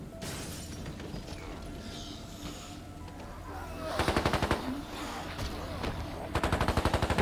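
Rapid automatic gunfire in The Walking Dead: Saints & Sinners, played in VR, two loud close bursts of evenly spaced shots separated by quieter ambient game sound and a faint voice.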